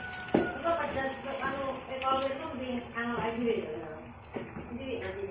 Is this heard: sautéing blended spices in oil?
yes